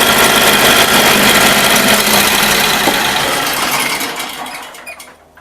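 A Cub Cadet 3050 lawn tractor engine runs loud and close with a steady rattling drone, then winds down and fades as it shuts off near the end.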